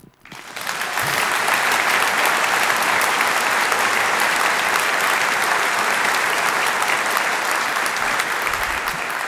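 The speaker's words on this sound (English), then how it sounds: "a big round of applause" A large crowd at a corporate product-reveal event bursts into loud, sustained applause that swells quickly and continues steadily with cheering undertones.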